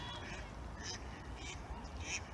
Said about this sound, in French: il y a plein de canards qui viennent là